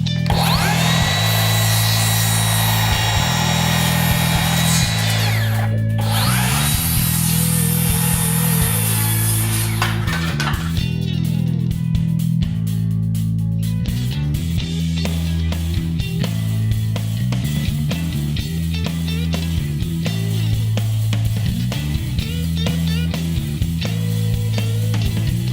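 Fence boards are trimmed and screwed onto a wooden gate, with loud, close power-tool whine and grinding, then rapid rattling drill or saw bursts with wooden knocks, and no talk.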